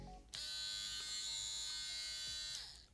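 An Andis Revite hair clipper runs with its blade removed, giving a steady, even electric motor buzz with a soft click at switch-on. It is close but low in level, with no talking.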